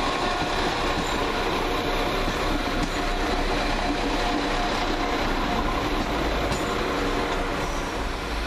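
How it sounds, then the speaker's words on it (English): A London Midland passenger train passes on the railway at Cradley Heath, a steady, loud rumble of wheels and carriages that holds evenly for the full stretch with no talk. "12:53 London Midland service from Dorwich through to Kidderminster. It's right here."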